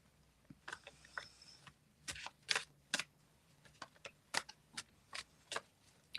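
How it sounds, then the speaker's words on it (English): A deck of cards being shuffled during a medium's reading, heard as a series of quiet, crisp riffles and soft taps in an irregular rhythm, close to the microphone in a quiet room with no talking. "We shuffle the cards."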